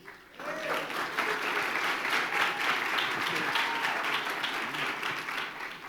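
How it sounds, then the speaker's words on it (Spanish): An indoor church audience applauds a preacher's wife, Vanessa, with steady dense clapping that swells quickly and holds for several seconds; voices murmur faintly beneath it. "Un aplauso para ella."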